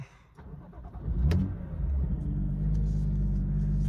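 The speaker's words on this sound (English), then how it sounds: "Let's fire it up. We have a push button start." A 2017 BMW M2 started by push button: a brief starter whir, then the engine catches with a loud rumbling flare and settles into a steady deep idle close by.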